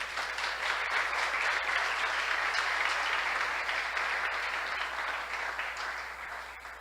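A church congregation claps for the King during a Christian sermon, with even, sustained applause that fades slightly toward the end.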